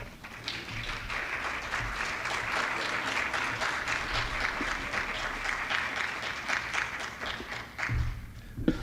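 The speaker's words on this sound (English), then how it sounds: "I want to ask you to give a strong round of applause and warm welcome for the Reverend Wayne Perryman." A church or lecture audience gives sustained, steady applause welcoming a reverend to the stage, dense clapping from many hands heard close, holding evenly for several seconds before tapering off at the end.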